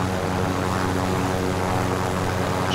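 Transport aircraft flying overhead in the video game Call of Duty Modern Warfare, a loud steady propeller and engine drone filling the whole moment with no talking.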